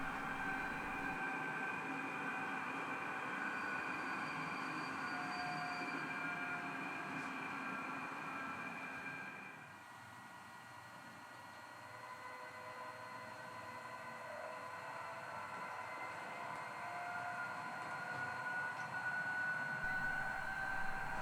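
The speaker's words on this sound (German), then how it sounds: "Während der Intercity nach kurzem Aufenthalt den Bahnhof wieder verlässt" An H0-scale model railway Intercity train pulls out of a station after a short stop, giving a steady synthetic locomotive drone with tonal hums. It dips briefly partway through, then rises again.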